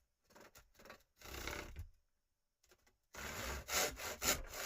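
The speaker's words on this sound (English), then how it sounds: "what I'm going to do is cut a piece of 3mm ply here" A hand saw cuts through a thin piece of 3mm plywood in quiet, close rasping strokes. Several short bursts come first, then a pause, then a faster run of strokes.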